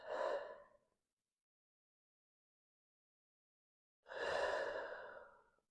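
Two slow, breathy exhalations during a slow hatha yoga flow, close and soft, each about a second long, separated by several seconds of silence.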